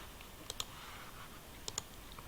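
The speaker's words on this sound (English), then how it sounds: "by clicking on Add Photo, click the picture, and then click the Open button" Two quick pairs of soft computer mouse clicks in Microsoft Movie Maker, faint and close against a steady background hiss.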